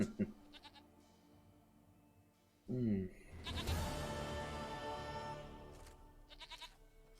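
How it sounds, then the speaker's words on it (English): Goat bleating in The Witcher 3: Wild Hunt, a loud wavering bleat in the middle of the clip, followed by a burst of rustling game sound, with softer ambient tones before and after. "Goat of mine, dearest, sweetest goat."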